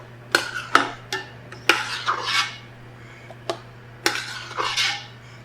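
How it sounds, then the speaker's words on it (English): A metal spoon scoops thick macaroni and cheese out of a pot, giving a series of sharp clanks and scrapes against the metal with brief pauses between, close and fairly loud over a low steady hum. "I'm going to grab a little bit of a metal spoon here to scoop this out."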